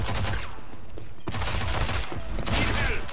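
Rapid bursts of gunfire from a PS4 online shooter game ring out with mechanical clatter over a dense, loud game soundscape, with no talk over them.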